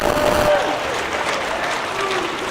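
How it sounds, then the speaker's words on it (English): Audience at a high school robotics state championship applauding the hospitality crew, a loud burst of clapping that settles into steady, moderate applause with a voice briefly audible at the start. "Give them a round of applause."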